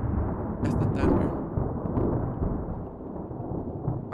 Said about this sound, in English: That's the thunder.